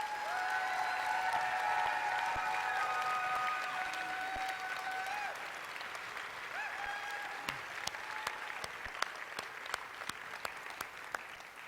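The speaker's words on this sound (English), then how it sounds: "give all of the volunteers and mentors a big round of applause" Applause from an audience at a student robotics event, honoring volunteers and mentors; moderate, fairly distant clapping that thins over time, with a few sharp louder claps standing out and some faint voices underneath.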